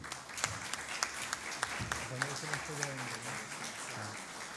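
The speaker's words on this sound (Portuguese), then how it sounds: "Uma salva de palmas, por favor" Applause from the audience at a public hearing as a guest joins the panel, a steady patter of many hands with some sharper nearby claps, while someone speaks over it.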